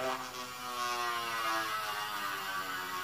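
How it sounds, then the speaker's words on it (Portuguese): A small mini drill run as a rotary tool hums with a steady, high-pitched motor whine, its tone wavering slightly as it runs alone and fairly close. "usar isso aqui como uma micro retífica"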